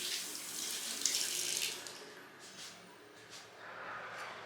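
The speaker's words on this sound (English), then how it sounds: "So wash your hands." Water runs from a kitchen tap while hands are washed, a steady close hiss that surges briefly in the first two seconds and then settles into a softer continuous flow, with no voices.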